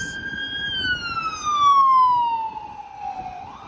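An emergency vehicle's siren wails along The Queensway near Mimico in Etobicoke, loud and close. Its steady tone slides downward in pitch as it passes, then turns upward again over low street rumble.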